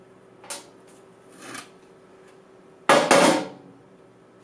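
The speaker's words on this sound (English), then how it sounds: "I'm just pounding out these I don't know, what'd you call them, carriage bolts, because they're really stuck in there otherwise" A hammer pounding stuck carriage bolts out of an arcade cabinet: two lighter knocks, then two loud close blows in quick succession after a pause.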